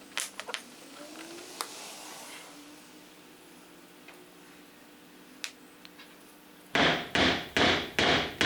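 A wedge is hammered into a glued tapered tenon in a woodworking shop. Scattered light taps and clicks lead into a quick series of five loud, evenly spaced mallet blows near the end.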